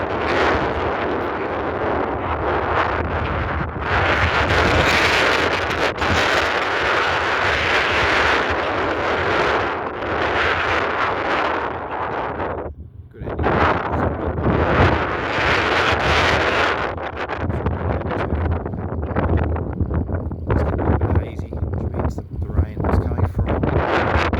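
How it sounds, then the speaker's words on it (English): Strong wind gusting across an outdoor microphone, a loud continuous roar with buffeting that briefly drops away partway through before surging back. "There you go, it's windy enough to add to the temperature."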